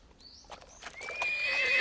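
A horse neighs in a rising whinny that swells louder toward the end, with faint hoof clip-clops at the start.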